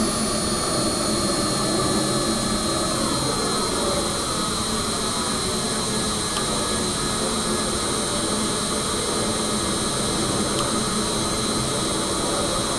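Jet engines run steadily in a flight simulator game, a loud continuous roar and whine with a high tonal hum that holds for the whole stretch, with no talking over it.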